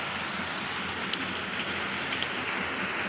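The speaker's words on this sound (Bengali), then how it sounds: "বাইরে এখনও বৃষ্টি কমছে না" Steady, even hiss of rain falling, a dense wash of drops with no voices and no distinct individual impacts.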